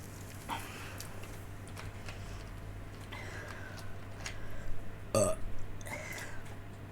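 A single burp after a drink rises briefly over a steady low electrical hum, moderately loud but short, with faint room noise before and after.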